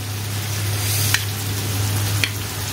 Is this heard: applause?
no